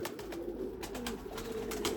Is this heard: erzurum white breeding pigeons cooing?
yes